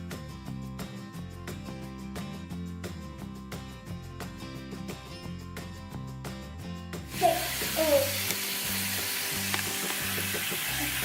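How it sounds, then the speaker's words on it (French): Lentils are put on to cook in a home kitchen, and a steady sizzle and hiss begins partway through, joining a rhythmic music track that plays throughout. "je vais lancer les lentilles à cuire"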